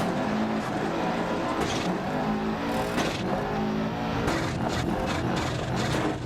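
A rally car in Dirt Rally 2.0 on an Argentina stage gives a steady, loud engine roar that revs up and down as it climbs through the gears, with gravel-like road noise underneath and no talking.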